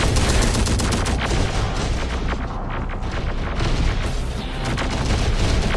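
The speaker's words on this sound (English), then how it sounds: "Hostile fire!" Gunfire in a Terminator: Dark Fate Defiance battle, a dense continuous fusillade of overlapping shots and booming blasts, loud and close throughout with no pauses.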